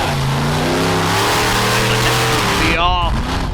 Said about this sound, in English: The snake's heading onto the front stretch for a donut right in partial.